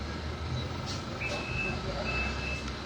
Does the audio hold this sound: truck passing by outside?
yes